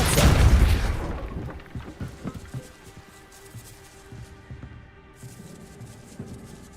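A Depulso force spell is cast in the Hogwarts Legacy video game: a loud, heavy blast at the start, then a fading rumble with scattered light knocks and debris patter.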